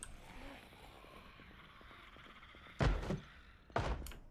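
Zombies bang on a door in a video game, two heavy thuds landing about a second apart over a low background murmur, fairly close and loud against the quiet.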